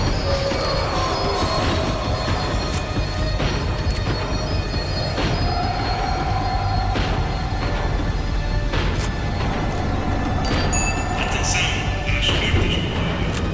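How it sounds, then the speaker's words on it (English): A tram in the video game Max Payne 3 slows on its rails with loud, continuous wheel squeal and metallic rumble, high screeches rising and fading over a dense rolling bed. "The tram was slowing down, and I'd only just gotten on board."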